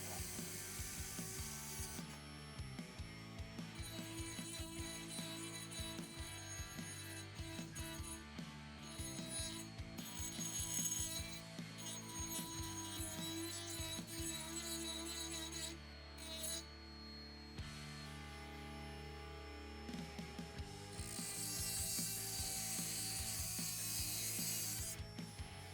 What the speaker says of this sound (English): I am using the same bit and RPMs for cutting through this copper pipe.